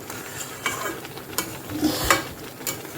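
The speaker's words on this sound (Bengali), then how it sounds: "ঘি দিয়ে একটু ভেজে নিয়েছি, ঘি আর তেজপাতা দিয়ে আর কাজু দিয়ে" Raisins, cashews and bay leaf frying in ghee, a soft steady sizzle with scraping stirs and occasional clinks of a utensil against the pan, close and fairly quiet.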